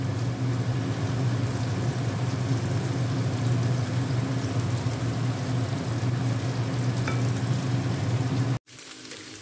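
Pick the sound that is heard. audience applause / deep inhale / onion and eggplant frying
onion and eggplant frying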